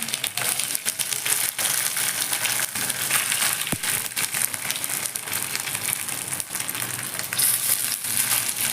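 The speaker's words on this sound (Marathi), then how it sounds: "थोडी मोहरी सफेद तीळ घालायचे हे सर्व भाजून घेऊया" Mustard seeds and white sesame seeds roasting in a hot pan, a continuous crackling sizzle with scattered popping ticks and occasional scraping, close up and without talk.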